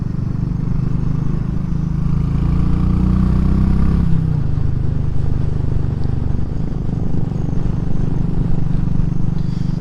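A Royal Enfield Classic 500 single-cylinder motorcycle runs steadily up close, a continuous low engine and exhaust thrum with a slight shift in tone midway.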